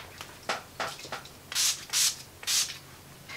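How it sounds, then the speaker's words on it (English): Skindinavia makeup finishing spray mists out in short, soft spritzes. A few light puffs come first, then three stronger, hissing bursts in quick succession, close and quiet with no talking. "And then one final layer of the makeup finishing spray from Skindinavia."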